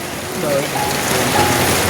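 Heavy rain falls steadily in a windy storm, a dense close hiss of drops on surfaces with no pause.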